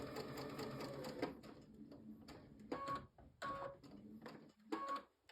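Close, fast mechanical whirr of a sewing machine stitching a scant quarter-inch seam on a quilt block, running in several short bursts with brief pauses and handling clicks between them.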